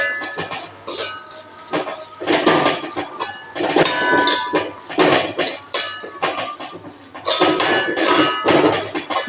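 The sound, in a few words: stirring idli masala in a pan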